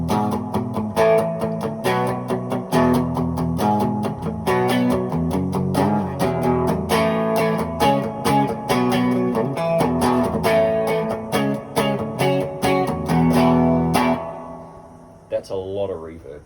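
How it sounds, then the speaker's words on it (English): An electric guitar played through a reverb pedal set to high decay and mix rings out in dense, washed chords with long sustained tails, loud and continuous before the wash fades out near the end. "That's a lot of reverb."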